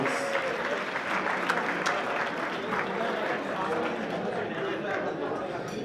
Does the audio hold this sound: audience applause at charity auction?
yes